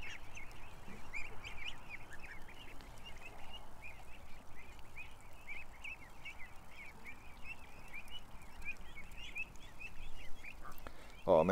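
A friendly goose honking repeatedly in a steady, chattering run of calls, fairly close, over a soft outdoor background, with no talking.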